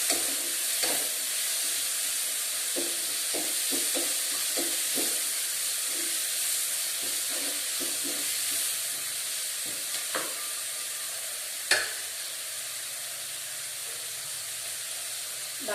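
Tomatoes fry in a pan for a poori curry, giving a steady hiss of sizzling oil while a spoon stirs now and then with soft clicks and scrapes, close and continuous.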